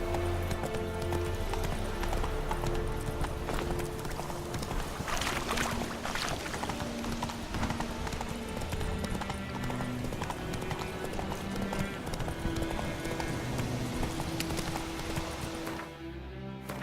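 Roach the horse galloping in The Witcher 3, a continuous rapid clip-clop of hooves up close with game sounds layered underneath, the hoofbeats fading slightly near the end.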